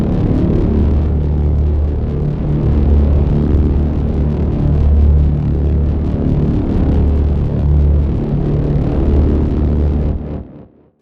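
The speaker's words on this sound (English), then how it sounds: "Just a big, massive drone" A big, massive synthesized drone made in Generate holds steady and loud for about ten seconds, a dense sustained low rumble with slowly shifting textures and no dynamic change, then cuts off abruptly at the end.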